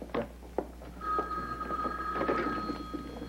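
A telephone ringing in a quiet room: one sustained ring of about a second and a half, with a few soft knocks and movements around it.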